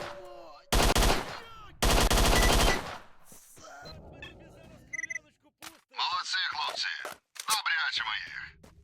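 Bursts of automatic gunfire from the video game S.T.A.L.K.E.R.: Shadow of Chernobyl, two long loud volleys close together, then scattered quieter shots and clicks, followed by someone talking.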